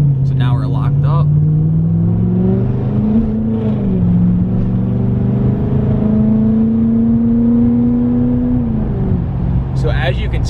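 An L5P diesel pickup truck fitted with an S369 SXE turbocharger accelerates under lockup on a road, its engine drone and turbo whine climbing steadily and holding at a near, loud level, with a voice talking over it.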